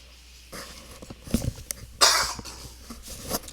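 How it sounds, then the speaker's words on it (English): A few harsh coughs close by, one loud burst in the middle with smaller throat sounds around it, otherwise quiet. "Sorry about the coughing."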